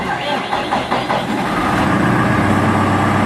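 Diesel engine of a Longi skid steer cranking and firing up, then settling into a steady loud idle, with a person talking nearby during the start.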